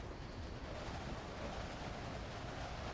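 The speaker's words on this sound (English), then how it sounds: "The wind noise needs to be brought down." Steady broadband wind noise roars continuously inside Train Simulator Classic on the Buchan Line between Aberdeen and Peterhead, loud and even throughout with no talk.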